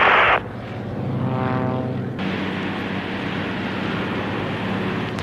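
An airplane engine drones steadily and loudly up close, a broad rushing roar with a brief whining tone in it near the start, and no voices over it.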